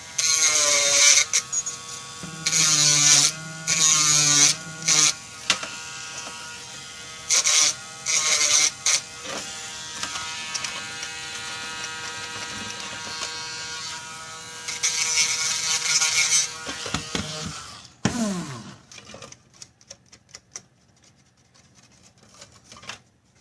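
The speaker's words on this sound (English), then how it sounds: "Clip that a little bit before we grind that off there." A power tool grinds excess plastic off a wall in repeated loud, close, buzzing bursts that start and stop, followed by quieter scraping and handling sounds.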